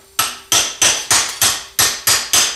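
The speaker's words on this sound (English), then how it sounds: "when you start hammering on the tubing from the inside" Hammer blows striking a dull chisel and punch against steel tubing while building a turbo log manifold with basic tools, eight sharp metallic clanks in a steady rhythm, close and loud with ringing decay.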